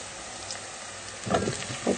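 Potatoes hitting hot oil in a pan while cooking a sardine curry, a soft steady sizzle that swells into louder crackling bursts as they go in.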